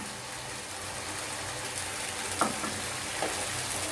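Ginger cut into large pieces drops into a pan of cooking tomato chutney, giving a steady soft sizzle with a couple of brief brighter crackles as the pieces land.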